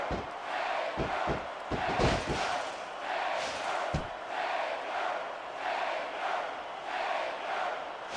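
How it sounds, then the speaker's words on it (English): Loud crowd cheering and roaring fills an arena in WWE SmackDown vs Raw 2006, a Hell in a Cell match between The Undertaker and Shawn Michaels, with a few sharp slams early on beneath the steady sustained crowd noise. "I can't remember the last time I seen a crowd so pumped up."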